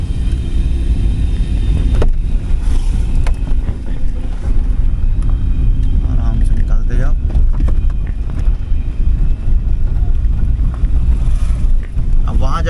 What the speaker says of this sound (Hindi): गाड़ी ड्राइव करेंगे।